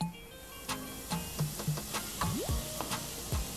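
Curry powder sautés in olive oil in a pan as a quiet, steady sizzle, broken by scattered taps and scrapes of a utensil stirring.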